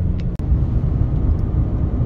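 A Ram pickup with a failed Aisin transmission and a broken K1 snap ring rolls along in fifth gear with no lockup. Its cabin is filled with a loud, steady, low engine and road rumble, with a brief click early on.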